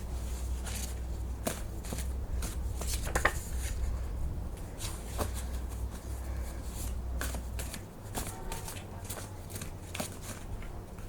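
Repeated riffling snaps of a deck of cards being shuffled up close, in quick bursts separated by brief pauses, over a soft background hum.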